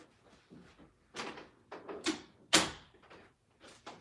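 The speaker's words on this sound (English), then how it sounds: "I had to close the door real quick" A door shut in a hurry, with a few soft knocks and shuffling before one loud, sharp slam near the middle, followed by lighter bumps.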